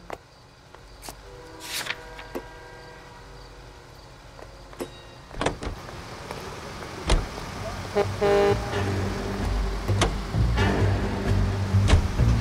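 Car driving in the video game L.A. Noire, engine noise building gradually with clunks and mechanical clicks, quiet at first and growing louder; no talk.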